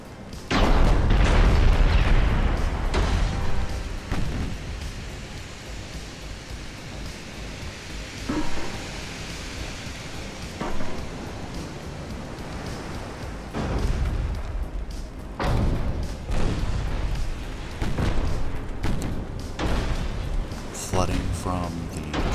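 Main-caliber battleship gunfire and shell hits in Ultimate Admiral: Dreadnoughts, a naval battle: heavy booms and bursts recur at irregular intervals, loudest at the start, with someone narrating over them.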